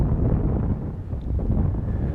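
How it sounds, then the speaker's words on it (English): Wind blows steadily across a mountain golf course, buffeting the microphone with a low, rumbling roar that rises and falls gently throughout. "Wind is blowing left to right."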